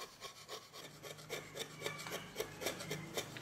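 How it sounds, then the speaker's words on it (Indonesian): A hand chisel carving Kalimantan majot wood slowly and carefully, giving quiet, rhythmic scraping strokes repeated close by with no talk. "Kemudian kita pahat secara perlahan dan berhati-hati, jangan sampai lukanya itu terlalu dalam."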